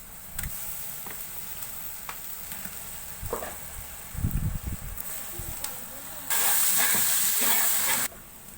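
Ginger paste hits a hot pan of chicken curry, giving a soft, steady sizzling hiss with a few light stirring knocks, then a louder, brighter burst of frying near the end.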